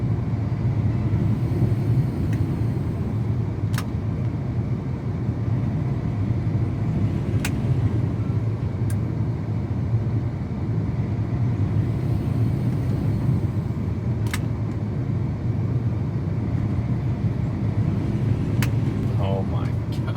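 A combine harvester runs steadily while cutting, a dense, continuous low mechanical rumble and drone from inside the machine, with occasional faint clicks and a voice talking now and then over it.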